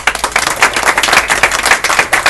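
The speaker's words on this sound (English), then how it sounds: "if everyone can give each other a round of applause" Loud, close clapping from a crowd at a charity cycling event, a dense, steady round of applause from start to end with no talking.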